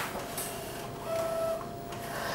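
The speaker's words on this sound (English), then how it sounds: "Is the print starting to come out of the printer?" A P700 printer prints a panoramic colour print on roll paper, giving a steady mechanical whir with a faint tone rising over a constant hum.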